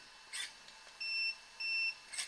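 Two short electronic beeps in quick succession from an Arrma Mini Kraton RC car's electronics, clean and close, preceded by a soft click and followed by another.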